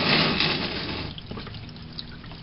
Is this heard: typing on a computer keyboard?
no